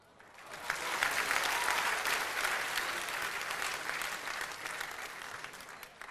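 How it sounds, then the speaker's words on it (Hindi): Steady, full applause from an audience at an Urdu poetry recital, swelling up quickly and holding as a dense wash of clapping that slowly eases off, heard on its own without talk. "डॉक्टर बशीर बद्र के सम्मान में तालियां बजनी चाहिए"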